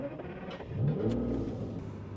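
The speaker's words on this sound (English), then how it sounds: "It's got a 6-litre V12." A 6-litre V12 in an Aston Martin Vanquish revs with a deep rumbling idle that swells into a rising throaty blip and settles back, loud and close with no voices.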